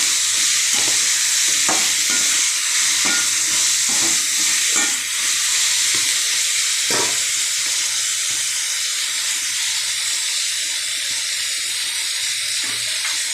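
Tomatoes sautéed with rock salt in a pan: a loud, steady hissing sizzle fills the whole stretch, with a few soft spatula strokes early on, close by and with no talk.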